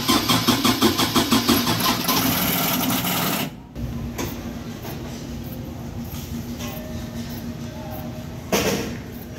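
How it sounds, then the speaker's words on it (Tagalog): An old generator, long in storage and unused, is cranked with a rapid rhythmic chugging starter sound, cuts out briefly, then a rough engine rumble continues close and loud, with a renewed surge near the end. "kasi itong generator nito ay matagal na stock na hindi nagagamit kaya medyo hindi napapandar."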